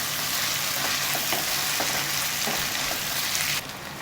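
Spices and chili powder sauté in a pan for paneer fried rice, a steady close crackling sizzle with occasional spoon stirs that drops slightly in level near the end, no talking.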